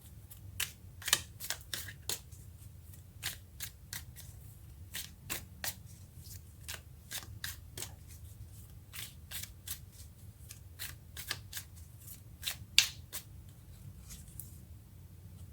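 Tarot cards being shuffled by hand, a steady run of crisp, riffling card flicks and snaps repeating throughout at close range, over a low background hum with no talking.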